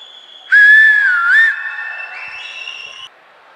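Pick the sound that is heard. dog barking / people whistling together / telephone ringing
people whistling together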